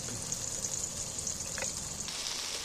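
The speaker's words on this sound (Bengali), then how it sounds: "এবার আমি টমেটোটার সাথে নুন লঙ্কা হলুদ একসাথে ভেজে নিচ্ছি" Tomatoes fry in a pan with salt, chili and turmeric for a jackfruit vegetable curry, giving a steady hiss and sizzle with a faint clink of stirring partway through.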